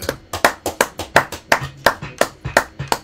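A church congregation claps in unison in a steady, even rhythm, about three crisp claps per second, loud and close, with no voices over it.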